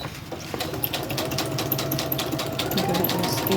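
A sewing machine runs steady decorative stitches through paper junk journal folios, a rapid even chatter close by with faint low hum, building slightly in speed toward the end.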